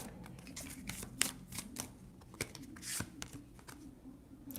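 An oracle card deck is shuffled by hand, giving soft riffling and sliding card sounds with a few sharper flicks, close and quiet with no talk.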